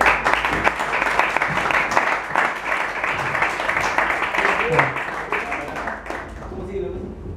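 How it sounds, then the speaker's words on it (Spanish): Applause from a small group breaks out in a burst of scattered claps mixed with voices and chatter, then thins and fades toward the end. "Un aplauso."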